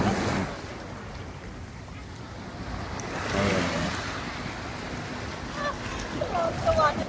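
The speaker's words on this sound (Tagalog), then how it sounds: "Magtampisaw ka ng tubig." Sea water splashes around a swimmer at night in Ajman, with a steady wash of small waves and wind buffeting close by, and brief voices in the background.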